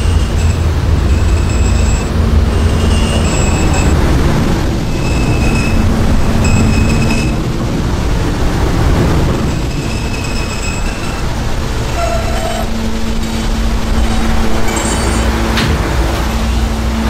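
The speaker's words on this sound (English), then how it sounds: "This is a Cadland bound E train." A Cadland-bound R160A E subway train at Herald Square station rumbles and rattles steadily throughout, with wheel screeches and tonal whines from the cars, loud and close with no talk over it.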